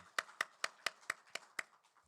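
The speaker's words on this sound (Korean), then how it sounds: "우리 축복의 박수 하십시다" A church congregation gives a short round of applause during a Sunday worship service, heard as about seven distinct, evenly spaced claps fading quickly in a quiet hall, with no talking.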